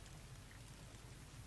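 Steady rain falls in Fallout New Vegas, a dense, even hiss with a low rumbling undertone that stays constant throughout and is faint overall, with no voices.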